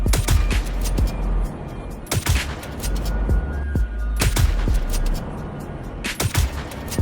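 Scalpel sniper rifle firing in Star Citizen, with three big booming shots spread over several seconds, each followed by smaller cracks, over dense, loud game ambience.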